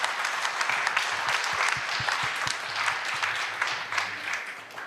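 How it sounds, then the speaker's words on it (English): Audience applause at a Malaysian Humanitarian Foundation gathering, a dense, steady patter of many hands clapping throughout, fairly close and even in loudness. "can I have a hand of applause for yourself first?"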